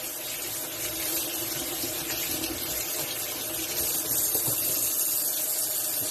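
Tap water runs steadily over rubber O-rings from a DeLonghi espresso machine brew unit as they are washed by hand, a continuous close splashing rush with slight shifts in flow.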